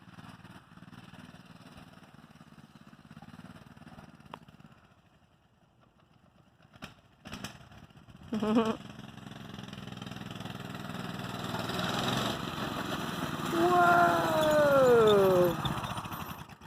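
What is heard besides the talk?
mini bike engine approaching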